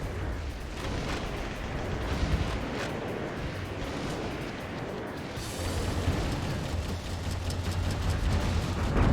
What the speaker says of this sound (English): just using a grenade launcher